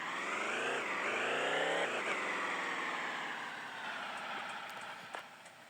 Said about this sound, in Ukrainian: О, вже появилась перша машина